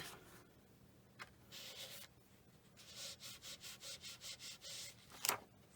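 A small paper scrap is rubbed firmly over a stencil to burnish it down, giving faint, close scratchy strokes, first a few separate passes and then a quick run of about ten rhythmic rubs, with no talk.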